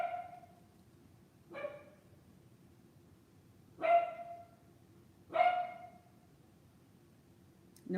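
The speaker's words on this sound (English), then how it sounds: "Did you hear the doorbell and the dogs barking?" A dog barks four times at uneven intervals, sharp and fairly close, with quiet pauses between each bark.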